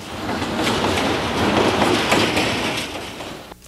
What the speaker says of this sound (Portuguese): Agora, só os trens de carga